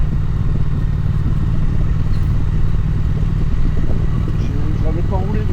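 Triumph Speed Twin 1200 motorcycle engine rumbling steadily and close while riding on small roads in the Vosges, with a French voice talking over it throughout.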